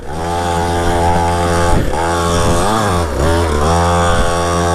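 A Syx Moto 50cc two-stroke pit bike engine screams at high revs while riding offroad, loud and close, with the buzzing pitch dipping and climbing as the throttle is blipped and released.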